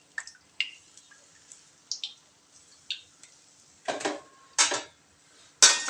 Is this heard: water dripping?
yes